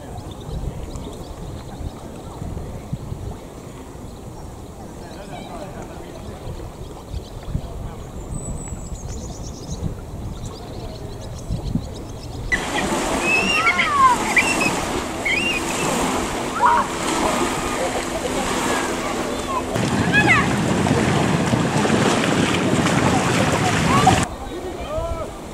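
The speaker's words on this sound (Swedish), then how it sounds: "Eftersom Vadstena ligger vid Vättern så kommer lite båtar hit ibland och de lägger till i gästhamnen." Wind and lapping waves at Vadstena guest harbour on Lake Vättern, where boats moor, give a broadband wash that swells louder partway through.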